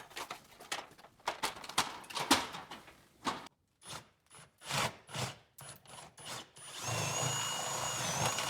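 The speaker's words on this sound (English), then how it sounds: "drill a hole from this wall" A power drill runs in repeated short bursts, stopping and starting, then grinds steadily through a wall near the end.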